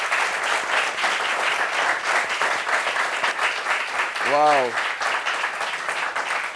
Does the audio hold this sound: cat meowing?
no